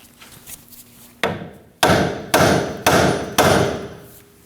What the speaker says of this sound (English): Now we're going to use a hammer and strike the knuckle right here to get the knuckle to drop off the ball joint.